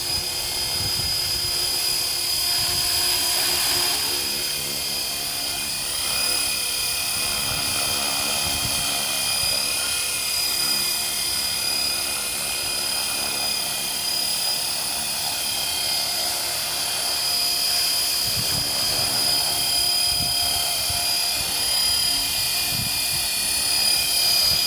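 A Blade 400 radio-controlled model helicopter flies nearby, its high, steady rotor and motor whine holding constant and loud throughout without a break.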